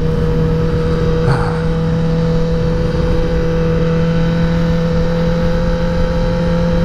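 A 2021 Kawasaki ZX10R motorcycle engine while riding, a loud, steady drone with a constant hum and rushing wind noise and no clear revving.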